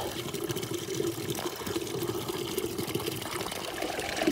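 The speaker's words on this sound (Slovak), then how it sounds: "No takto zvyknem naberať vodu do takejto 8 litrovej nádoby" Spring water being scooped into an 8-litre container at a forest spring, a steady close pouring and trickling wash with a faint splashy rise toward the end.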